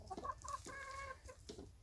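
Free-range hens cluck close by in a series of short, uneven calls with a few longer drawn-out notes, soft and quiet, set against faint outdoor background noise.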